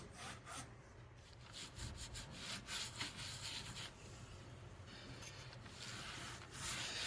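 Steady brushing strokes of clean wax over beehive frame foundation, a continuous scratchy rubbing that repeats close up with no talking.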